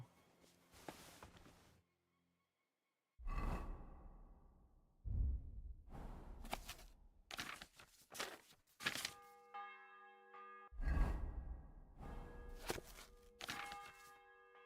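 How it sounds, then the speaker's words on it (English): Church bell tolling in a video game, several resonant strikes spaced a few seconds apart with ringing overtones, set among quiet thuds and footstep-like sounds, fairly faint overall. "The bell's ringing for Hans the 5th"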